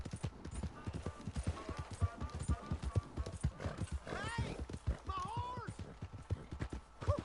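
Horse hooves clip-clop steadily in Red Dead Redemption 2 as a borrowed horse is ridden, a close, regular rhythm of hoofbeats. A couple of whinnies come in midway.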